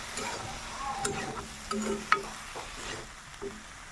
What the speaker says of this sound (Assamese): মিক্স কৰি অকণমান ভাজি ল'ম।